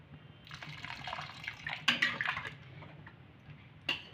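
Water poured into a pan of raw mangoes in a kitchen, a soft splashing trickle that swells in short bursts, close and fairly quiet, with no speech.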